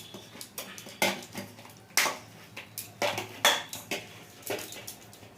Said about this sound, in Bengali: এবার রোলের লেচিগুলো কেটে নেব